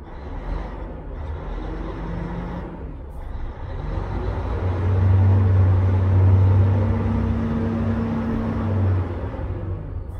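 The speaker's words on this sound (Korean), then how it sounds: "아주 짜랑짜랑하게 엔진 울리고 있습니다." A 2010 Hyundai Trago 14-ton wing body truck with a fully rebored engine idles from inside the cab, a steady deep diesel rumble that builds midway and holds loud and close throughout with no talk.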